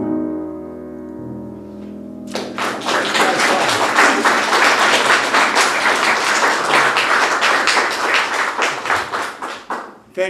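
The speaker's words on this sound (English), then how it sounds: "Your applause is very, very nice." An audience at a live music show claps loudly and continuously for several seconds after a held tone from the stage, the applause fading toward the end.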